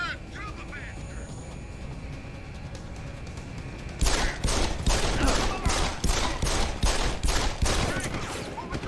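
Ray gun fire in the video game Deus Ex: Human Revolution: after a quieter stretch, a loud, dense volley of rapid shots breaks out and keeps going steadily to the end.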